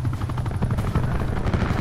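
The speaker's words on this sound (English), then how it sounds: "Enemy attack chopper above." An enemy attack helicopter in Call of Duty: Black Ops 4 passes overhead, its rotor giving a loud, steady chopping thud that fills the whole moment without a break.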